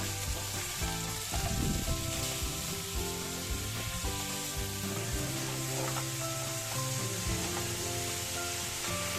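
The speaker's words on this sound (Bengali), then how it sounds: "এরপর 2 কাপ মতো সরু করে কাটা বাঁধাকপি, একটা ক্যাপসিকাম, 2টা সরু করে কাটা গাজর, 2 চা চামচ নুন আর 1 চা চামচ গোলমরিচ গুঁড়ো দিয়ে সামান্য নেড়ে চেড়ে নেব" Shredded cabbage, capsicum and carrots stir-fried with salt and pepper powder for spring roll filling make a dense, steady sizzle close up, broken by occasional scrapes and stirs of a spatula, with no talk.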